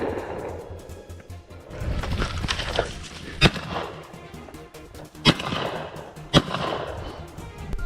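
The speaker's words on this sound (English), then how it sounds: "A gunshot tore through the silence once more." Several sharp, loud gunshots crack during a wild boar hunt outdoors. They ring out one by one amid rustling and movement noise.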